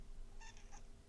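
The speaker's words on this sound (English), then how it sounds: "Oh, now she does meow back. I have my cat over here." A pet cat gives a short pair of meows, close and clear, against a quiet indoor room with a faint steady hum.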